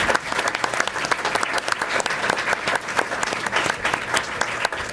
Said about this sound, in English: if we could just give them a round of applause for both those programs